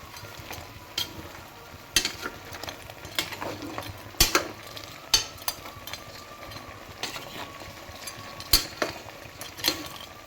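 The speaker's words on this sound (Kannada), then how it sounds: "ಮತ್ತು ಒಂದು ಸ್ಪೂನು ನಾನು ಗರಂ ಮಸಾಲಾನ ಹಾಕ್ತಾಯಿದ್ದೀನಿ ಹಾಕ್ಬಿಟ್ಟು ಚೆನ್ನಾಗಿ ಮಿಕ್ಸ್ ಮಾಡಿ ಇದನ್ನು" A spoon stirs garam masala into a sheep head and trotters curry in a pan, with repeated metallic scrapes and knocks over a low sizzle, close and fairly loud, no talking.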